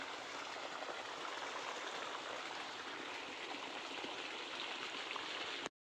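Irrigation water runs through a farm field channel into the last plot, a steady soft gurgling rush that holds evenly and fairly faint until it cuts off abruptly at the end.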